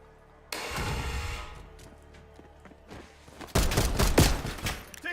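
Gunfire in the F.E.A.R. video game: a sustained burst of shots begins early and rattles on under clutter, then a louder, denser volley erupts near the end, close and heavy.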